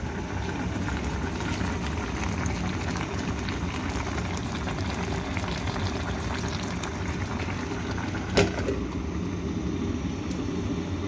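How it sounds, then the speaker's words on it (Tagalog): A constant low bubbling and rumbling of water boiling in a pot, steady throughout, with one brief clink near the end. "kumukulo na"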